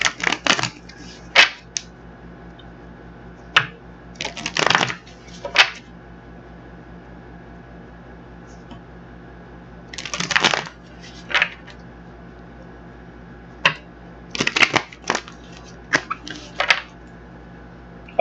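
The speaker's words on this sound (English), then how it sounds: "So let's get the other deck shuffled." Tarot card deck shuffled by hand at close range, irregular crisp riffles and soft slaps in short clusters separated by quiet pauses, with no talking.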